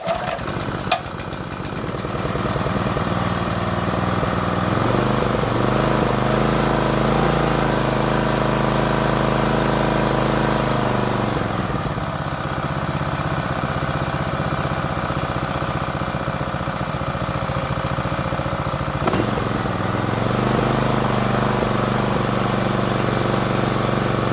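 A small water pump engine is pull-started and settles into a steady, loud, close running drone that holds for over twenty seconds, with slight changes in pitch as it runs.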